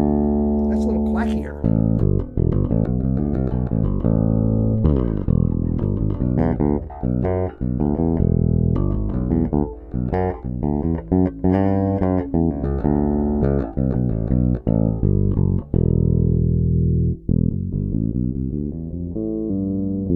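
A 1987 Gibson IV bass guitar is played on its back pickup, giving a deep, full run of notes and phrases that sound close and continuous.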